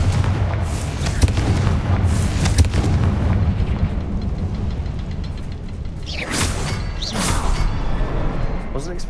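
A Confringo spell blast in the Hogwarts Legacy video game erupts as a booming, fiery burst layered over busy game ambience, followed by sharp crackling impacts, with voices talking along through it.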